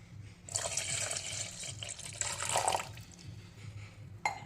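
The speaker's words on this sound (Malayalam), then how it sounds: "ഒന്നര ഗ്ലാസ് അളവിൽ വെള്ളം ഒഴിച്ചു കൊടുക്കാം" About one and a half glasses of water poured into a vessel while preparing a home hair remedy, a steady close splashing stream that stops abruptly, followed by a brief clink.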